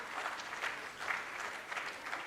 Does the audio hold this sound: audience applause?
yes